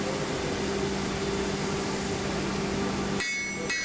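A hammer beating hot knife steel being forge-welded and drawn out, heard as a dense steady clatter of blows that runs loud for about three seconds and then breaks off into two short bright ringing strikes.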